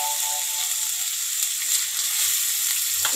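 Mutton naan chaap filling fries in a little oil in a pan, giving a steady, close hiss and sizzle with faint crackles throughout and no talking.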